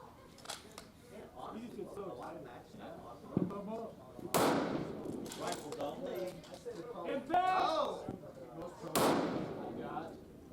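Two sharp precision rifle shots crack out a few seconds apart at an outdoor shooting competition, each standing above steady conversation between people on the firing line.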